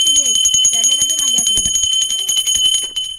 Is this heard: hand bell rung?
yes